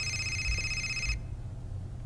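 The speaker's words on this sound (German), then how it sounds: "dann müssen wir halt erstmal das Telefon beantworten" A telephone rings in the video game Fahrenheit, a bright electronic bell tone sounding for about a second before cutting off, leaving quiet background hum.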